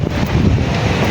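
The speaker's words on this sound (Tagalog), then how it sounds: "Pero mahangin ma'am siya." Steady wind buffets the microphone outdoors in Baguio with a constant low rumble and roar, loud and close, with no voices.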